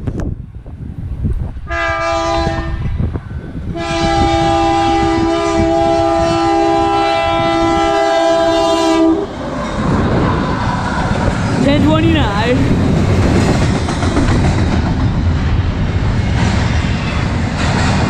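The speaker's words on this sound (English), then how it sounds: "I heard another horn." A freight train led by CEFX AC44CW locomotive 1029 sounds a loud, sustained multi-tone horn in two long blasts, then rumbles past with heavy rolling wheel and wagon noise.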